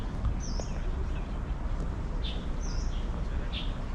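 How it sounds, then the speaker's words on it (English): Small birds chirp outdoors near the Taipa Houses Museum in Macau, a few short, fairly faint high calls scattered over a steady low street rumble. "You can hear the birds."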